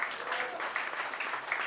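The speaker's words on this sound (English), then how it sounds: "keep clapping, guys" A crowd at a Star Wars–themed comedy roast claps in a brief, quiet patter of applause, heard from a distance with a faint murmur of voices mixed in.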